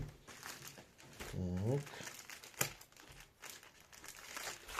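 A crinkly plastic parcel package being opened by hand, with close rustling and crinkling throughout and a person talking over it.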